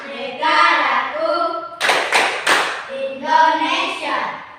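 Three sharp hand claps in an even rhythm, between stretches of a group chanting together in Indonesian, a patriotic clapping chant.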